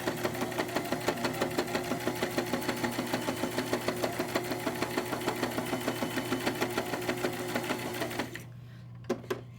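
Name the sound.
sewing machine sewing fabric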